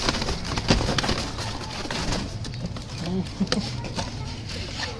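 Blue pigeons coo softly in a busy setting, their low calls coming in short bursts over a steady background noise with some rustling.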